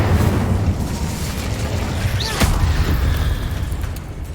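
A Confringo fire-blast spell explodes in a Harry Potter video game, a single sharp boom that punches through a dense, rumbling background of continuous game noise before fading back into the din.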